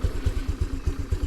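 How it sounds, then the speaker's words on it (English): A 2022 Honda NAVI scooter-style motorcycle idles too low on its carburetor, its engine thumping in an uneven, loping pulse about every quarter second, close and steady with no one talking. "the carburetor idle is going to need to be bumped up on this one. It's idling too low."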